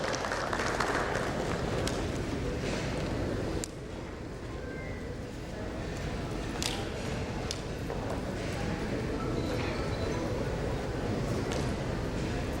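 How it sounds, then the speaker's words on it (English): An audience at an insurance industry panel on digital KYC gives a round of applause for a panelist, producing a steady, fairly soft wash of clapping that dips briefly partway through. "A big round of applause to Dr.Asha for her wonderful contribution in the panel session"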